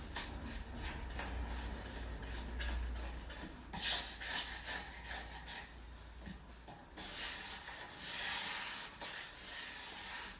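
A hand scraper works a tough, roughly millimetre-thick finish off a wooden piece with close, continuous rasping strokes. A louder, denser stretch of scraping comes in the final few seconds.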